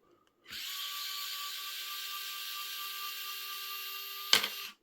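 A power tool, likely a cordless drill or driver, spins out screws from an Injora-upgraded Axial SCX24-style RC crawler, a single steady high whine lasting about four seconds, close and alone, ending with a short clatter.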